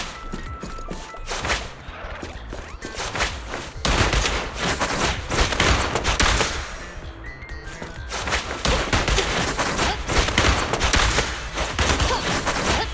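Sustained gunfire in the video game Zenless Zone Zero, a dense, loud barrage of rapid shots and impacts with brief lulls, continuous and close, layered with game effects.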